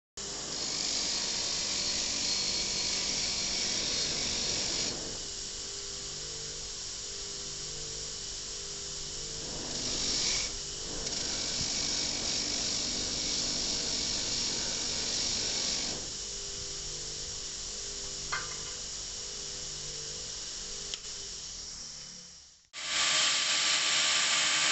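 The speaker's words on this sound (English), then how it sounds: "We take it to the wire wheel to remove the scale." A wire wheel grinds scale off a contaminated copper bar in a steady, loud, broadband hiss and whine, pausing briefly around the middle and near the end as the bar comes away from the wheel.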